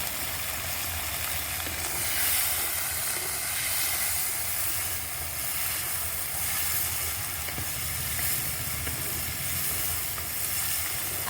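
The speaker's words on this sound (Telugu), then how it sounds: "ఆయిల్లో బాగా ఫ్రై చేసుకోండి." Ash gourd pieces fry in hot oil with a steady, broad hiss and sizzle that stays even and fairly loud throughout, with no talking.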